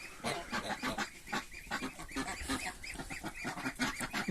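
Muscovy ducks on a home farm give a busy chorus of repeated nasal honks and quacks, many birds calling over one another at close range, with no talk.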